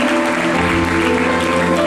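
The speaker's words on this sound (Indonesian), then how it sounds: "Tepuk tangannya kencang, mata lagi, tepuk tangannya kencang" A church congregation at an Indonesian worship service claps loudly and steadily, the dense wash of hands ringing out over sustained musical tones.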